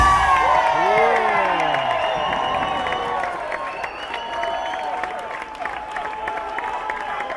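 A live audience at a Disneyland birthday party claps and cheers for Uncle Joe Benson, with loud sustained applause, whoops and shouted voices that slowly ease off.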